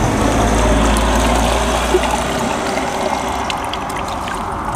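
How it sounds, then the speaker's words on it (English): A water film slides off a freshly washed police car in a soft, continuous trickling wash with a low hum underneath, fairly close and easing off gradually. "we're gonna let the water film layer sliding off a little bit of Jordy's car"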